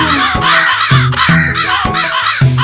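Repeated crow caws ring out over a bouncy instrumental backing in a Tamil children's nursery rhyme, several loud, evenly spaced calls close up.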